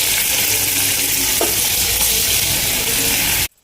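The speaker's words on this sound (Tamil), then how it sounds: "பூண்டை எண்ணெயிலே நல்லா வதக்கிடலாம்" Steady, loud sizzling of garlic frying in hot oil, a continuous crackling hiss close up that stops abruptly at the end.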